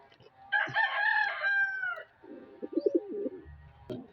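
A breeder rooster crows once in a loud, drawn-out call close by, followed by softer clucks and coos from nearby fowl.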